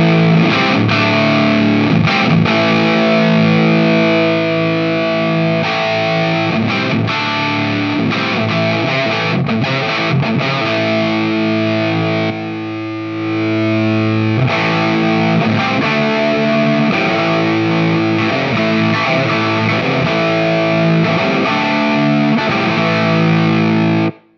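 Electric guitar played through a Mosky Black Rat distortion pedal in vintage mode, a cheap RAT clone, giving a thick, saturated tone with sustained chords and riffs, loud and steady throughout with no talking.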